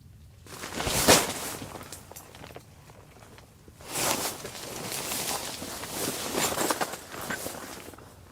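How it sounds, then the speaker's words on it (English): Footsteps approach a tent outdoors in the woods at night, soft irregular crunching and rustling steps in two bursts, faint to moderate and drawing slightly nearer, with no voices. "It sounds like someone's approaching the tent."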